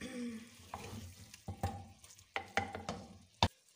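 Gobi aloo sabzi, potatoes and cauliflower with green chilli and garam masala, stirred in a pan: irregular scraping knocks and soft clatters of a spoon against the pan over faint frying, with one sharp clack near the end.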